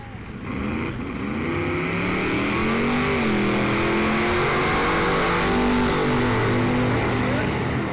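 Race cars rev loudly and continuously at an outdoor drag racing event, engines rising and falling in pitch through layered, sustained roaring with no break, the sound staying close and dense throughout.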